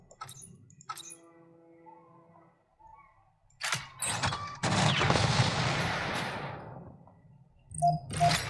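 Mech unit in the Mecharashi strategy game firing a salvo: a loud, dense burst of gunfire sweeps in with a sharp crack and rolls on for about two seconds, framed by shorter clicks and impacts, with no voices.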